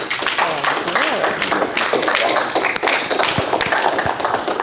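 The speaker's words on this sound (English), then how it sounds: "a round of applause, please, for our guest speaker for the night, Miss Jenny Showalter" An audience applauds a guest speaker at an evening aviation resume workshop, with dense, steady clapping and voices talking over it throughout.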